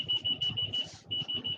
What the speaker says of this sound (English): that beeping sound you hear, that's the actual key finder that I have to find my car keys